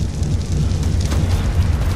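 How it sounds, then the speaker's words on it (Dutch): Explosions from a dinosaur's fire attack in the modded video game ARK Ragnarok, a sustained, dense rumbling roar with crackling bursts, loud and continuous throughout. "Maar ik heb dus ook deze explosies."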